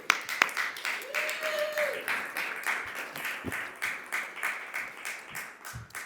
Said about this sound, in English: Let's give a big round of applause for Albert.